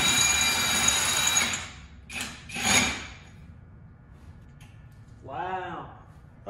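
An air impact tool fastening lug nuts on a car wheel during a hot rod build gives a loud, sustained buzzing rattle, then two shorter bursts. A brief whirring spin follows near the end, with no other sound between.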